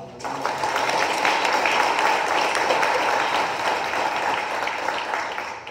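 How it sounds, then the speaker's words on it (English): Audience applause for school principals, counselors and staff at a health advisory council meeting, a steady moderate crowd clapping sustained throughout, with voices murmuring underneath. "Would you please give them a round of applause"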